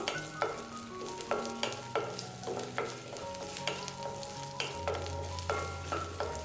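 Garlic and cumin are sautéed in a pan for a spicy onion-tomato chammanthi. A soft sizzle runs under repeated scraping strokes of a spatula, about two a second, along with a low steady hum and no talk.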